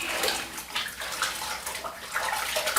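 Tap water runs steadily into a basin while rinsing during a shave with a OneBlade Core razor, a continuous close splashing hiss with no talking.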